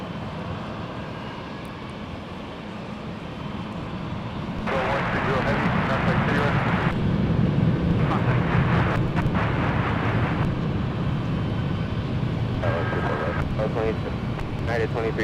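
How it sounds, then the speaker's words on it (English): A Delta Boeing 777 heavy airliner arrives on runway 24 right at LAX, its jet roar swelling up and holding loud and steady in the distance while airport radio talk runs over it. "Delta 353 Heavy is next in line for arrival on runway 24 rights"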